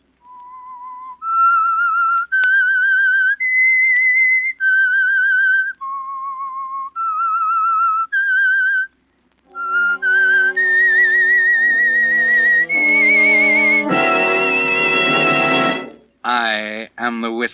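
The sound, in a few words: whistled theme melody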